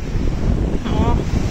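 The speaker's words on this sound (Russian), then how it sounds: "Море какое бушует." A stormy sea off the coast of Spain roars with breaking waves, while strong wind buffets the microphone in a constant close rumble.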